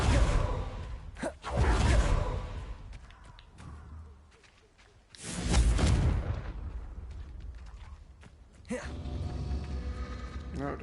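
Fiery Confringo spell blasts in Hogwarts Legacy, loud whooshing bursts with explosive booms in several waves, under a voice talking.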